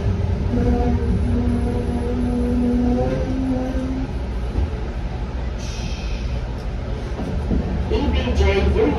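Inside a DART Green Line light rail special event train in Dallas during the 2022 State Fair of Texas, a steady rumble of wheels runs beneath a rising then fading electric motor whine, loud and continuous.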